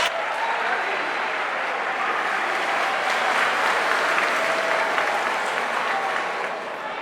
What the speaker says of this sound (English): let's clap for our lady that is in the final